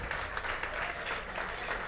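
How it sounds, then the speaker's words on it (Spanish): Church congregation applauding during a worship service, a steady dense clapping that fills the whole short moment at moderate loudness. "Si ese aplauso es para el Señor, yo creo que lo puede hacer mejor."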